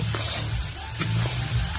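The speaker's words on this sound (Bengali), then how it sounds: "এখন আবার এ দেখো মাটন হচ্ছে, লাল লাল কষা কষা মাটন হচ্ছে।" Mutton being fried kosha-style in a pan, a steady close sizzle running the whole time with faint stirring scrapes and low background hum.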